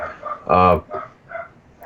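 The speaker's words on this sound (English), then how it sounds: "There's a dog barking." A dog barks once, loud and close, in the background of a gaming podcast recording, with softer voice-like sounds before and after it.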